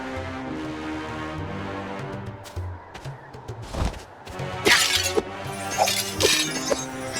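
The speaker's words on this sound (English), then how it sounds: "You really smashed that object!" Objects smashed in the Hotel Transylvania: Scary-Tale Adventures game on Nintendo Switch: several sharp glassy shattering crashes with clinking debris, the later ones louder, over game music.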